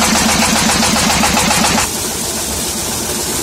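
A diesel engine running a water pump to irrigate a corn field, loud and close with a steady rhythmic chugging idle that drops to a lower, quieter drone partway through.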